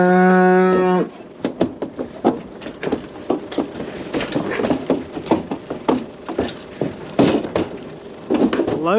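Red Angus cows with calves on pasture: one long, loud moo up close, followed by a steady run of hoof clatter and knocking thumps.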